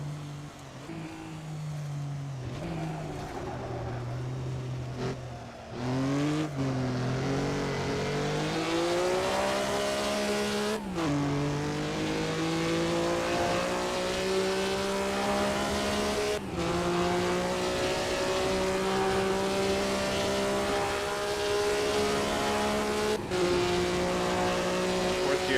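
A 1950s Maserati 250F Grand Prix engine in a racing game at Bremgarten, loud and continuous, climbing through the revs with sharp gearshift breaks, while a voice talks over it.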